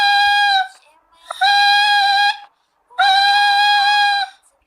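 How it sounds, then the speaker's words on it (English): Three loud, reedy buzzing tones from a straw whistle, each held about a second with brief silences between, the last rising slightly in pitch. "purse your lips and push the air through the straw like a whistle."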